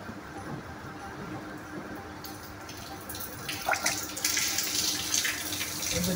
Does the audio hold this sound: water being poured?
yes